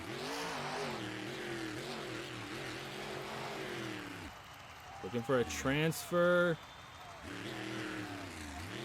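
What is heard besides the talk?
Monster Mutt monster truck engine in a video game race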